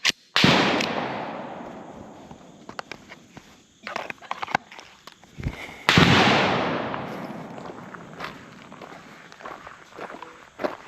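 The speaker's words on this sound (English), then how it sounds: "First shots of the day from concealment." Handgun shots fired from concealment at an outdoor shooting range: two sharp, loud reports with long decaying echoes, several seconds apart, followed by faint clicks and handling noises, with no talking.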